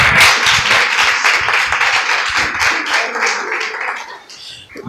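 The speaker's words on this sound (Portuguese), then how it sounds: "Vamos receber o servo do Senhor com a rica salva de palmas?" A church congregation claps together in sustained applause, dense and steady at moderate loudness throughout, with a faint voice or cheer mixed into the crowd noise.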